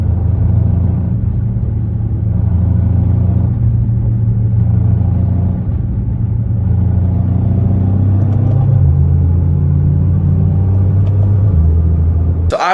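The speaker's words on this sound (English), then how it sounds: "You guys are gonna be able to hear like a little bit of like a rubbing or like a grinding noise." A Nissan GT-R with a failing transmission drives in 4th gear, a deep steady drivetrain rumble carrying a faint rubbing, grinding undertone throughout, with no talking.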